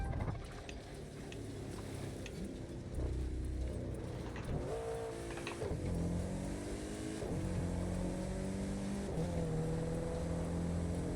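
A car engine in the racing game The Crew 2 revs and shifts through gears, pitch rising and dropping repeatedly over a steady engine drone at moderate volume.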